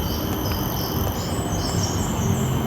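A mountain forest hums with a dense, steady chorus of crickets and other insects, with birds chirping and calling now and then over the constant buzz.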